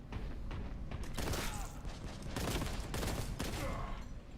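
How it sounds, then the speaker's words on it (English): Rapid, loud gunfire from the retro shooter video game Boltgun, with dense bursts of shots and bolter blasts in quick succession filling the whole stretch. "I like the way the bullets go through the air."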